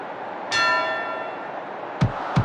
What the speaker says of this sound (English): Listen up for the bell, you guys.